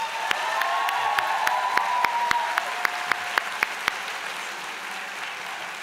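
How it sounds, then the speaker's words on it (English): Loud audience applause at a university engineering technology convocation ceremony, continuous clapping with a few sharp individual claps and whistling cheers standing out, steady throughout. "So a final round of applause for Chris May."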